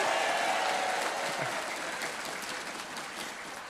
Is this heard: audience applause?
yes